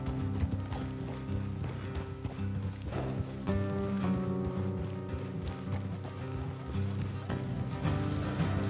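Horse hooves clip-clopping steadily in the Red Dead Redemption 2 video game, a continuous loud rhythmic trot with mechanical creaks and rattles of tack layered underneath.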